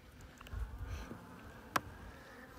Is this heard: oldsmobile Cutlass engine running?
no